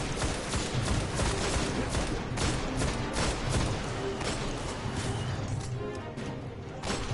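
Alien guns fire in the Destiny video game during a boss battle against a giant battleship, producing dense, rapid bursts of crashing gunfire and impacts that run continuously at moderate loudness.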